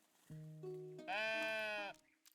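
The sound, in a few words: sheep bleating in video game Tiny Glade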